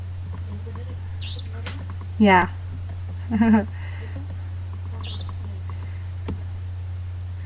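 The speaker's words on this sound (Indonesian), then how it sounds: "Ada suara burung." A few short bird chirps and calls in the background over a steady low hum, with a brief spoken word.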